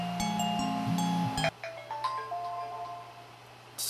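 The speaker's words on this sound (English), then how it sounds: "Sorry, that was my phone." A phone ringtone plays as a short electronic melody of bright tonal notes, cut off abruptly partway through, leaving quieter tonal game music continuing in the background.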